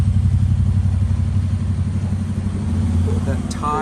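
A minibike engine runs steadily on a long-distance ride from Indiana to West Virginia, its low droning hum loud and close with constant wind noise.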